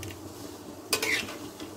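A spoon stirs raw mango pickle with the peel on in oil in a pan, faint scraping with one sharper metallic knock midway, a quiet kitchen hum beneath and no voices.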